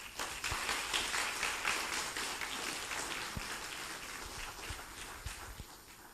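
An audience at a sustainable development conference applauds with steady, dense clapping that fills the room evenly and fades slightly toward the end.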